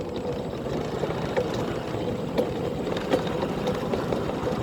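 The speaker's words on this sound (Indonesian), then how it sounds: "Suara motor ini yang belum diservis kan, Anda terdengar ya, kerak kerek kerak kerek" An unserviced motorcycle engine chugs steadily close by, with faint rattling clicks and knocks scattered through its rough running.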